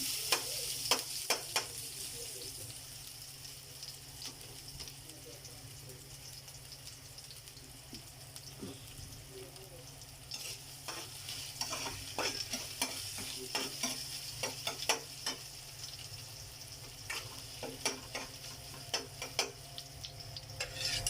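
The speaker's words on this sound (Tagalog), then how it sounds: "Inuna niyang igisa ang luya." Ginger sautéing in a pan for chicken tinola: a soft continuous sizzle with frequent scraping and tapping stirs that grow busier in the second half, plus a faint trickle of running water, no voices.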